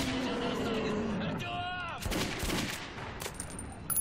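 Gunfire in the video game Metro 2033 comes as several sharp, loud shots and crashes over a rumbling background, with a rising whine between bursts.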